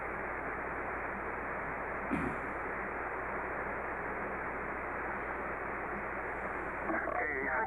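Steady hiss of shortwave radio static from an amateur radio station tuning up fills the clip, with a brief click partway through and faint warbling tones near the end.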